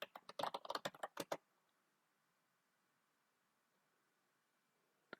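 Someone types a command on a computer keyboard: a quick, close burst of clicking keystrokes for about a second and a half, then quiet, with one last isolated key tap near the end.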